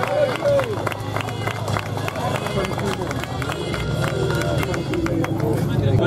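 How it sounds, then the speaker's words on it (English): Spectators at an Ironman 70.3 triathlon give steady clapping and cheering as the first female pro leaves the swim, a lively crowd hubbub with scattered applause and chatter and an announcer talking over it. "give her a round of applause"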